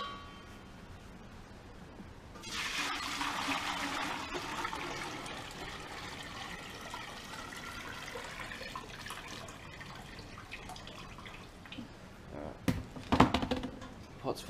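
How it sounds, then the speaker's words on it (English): Salt water pours steadily into a cooking pot, a continuous rushing trickle that starts after a couple of seconds and runs on, with a few metallic clangs near the end. "Fill our pot with the salt water."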